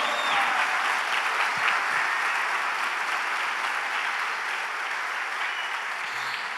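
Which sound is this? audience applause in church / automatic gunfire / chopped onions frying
audience applause in church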